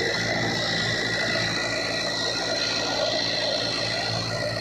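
A Farmtrack 6055 four-cylinder tractor engine runs steadily at close range, a constant droning rumble with a broad whirring hiss and no breaks.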